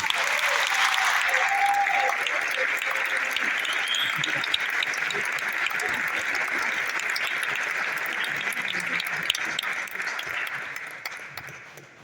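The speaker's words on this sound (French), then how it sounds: "qu'on applaudit, s'il vous plaît" Sustained, dense applause from guests at a 35th-anniversary cocktail party for Maison Plein Cœur. It holds steady for about ten seconds, then thins and fades, with faint voices in the room.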